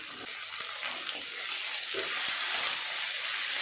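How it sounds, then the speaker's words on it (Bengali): Ginger, garlic and onion paste fries in a pan, giving a soft steady sizzle that thickens and grows slightly louder, with a few light scraping touches near the start; no talking. "খুব ভালো করে আদা রসুন আর পেঁয়াজটা একটু নেড়ে চেড়ে ভেজে নেব"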